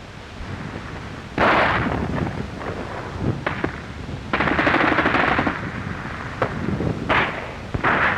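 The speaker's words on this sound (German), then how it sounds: "Aus den Häusern schießt der Feind." Gunfire during WWII street fighting, bursts of rapid machine-gun fire and single sharp shots cracking at close to middle distance, separated by short lulls, with no talk over them.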